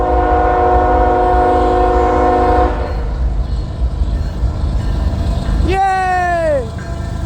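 A CSX mixed freight train passes close by with a loud, steady rumble and a sustained horn blast, then a rising whistle-like squeal near the end, with people talking over it.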